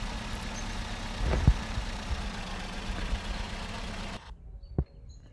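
A pickup truck's engine idles steadily at a low rumble, nearby and alone, then cuts out abruptly with a short clunk as it is switched off, leaving near silence.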